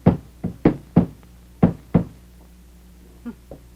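Knocks on a door land in uneven clusters, a quick run of six sharp raps followed by two fainter taps, close and loud against a quiet background.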